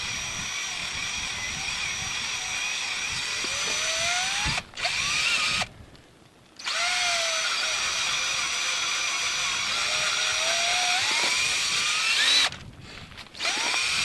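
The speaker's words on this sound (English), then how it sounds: "And while you're drilling, you need to kind of go slow so it doesn't burn the wood" A power drill boring a tap hole into a maple tree, a steady high whine running continuously, with two brief pauses where the drill stops before starting again.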